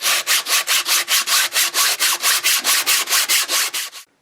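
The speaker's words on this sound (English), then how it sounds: "Now I'm going to sand this hub with a block and make sure those surfaces are flat" A Mercedes W140 S-Class wheel hub is sanded with 100-grit paper on a block in about twenty quick, even back-and-forth rasping strokes, loud and close, with no talking.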